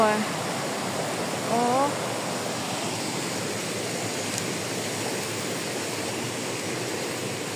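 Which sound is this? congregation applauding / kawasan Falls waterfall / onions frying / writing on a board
kawasan Falls waterfall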